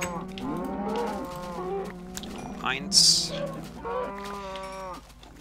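Cows in the Minecraft video game give several drawn-out moos in quick succession, fairly close and clear, while a person speaks briefly over them.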